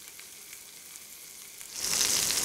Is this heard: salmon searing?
yes